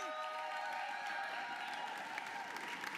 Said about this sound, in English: Can I have a round of applause for everyone you've seen first half?